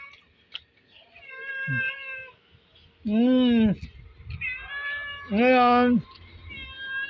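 A cat meows repeatedly at close range, a series of drawn-out, loud wailing meows, some rising and falling like a caterwaul, with a person speaking briefly between them.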